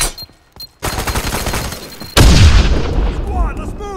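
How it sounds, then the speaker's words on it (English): A loud grenade blast and gunfire in the shooter game F.E.A.R. 3: a rapid volley of shots runs into a heavy, booming explosion that rumbles and decays, with voices heard faintly around it. "Tossing grenade!"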